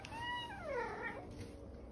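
A pet cat gives a single drawn-out, rising-then-falling meow, close and fairly clear against a quiet indoor background.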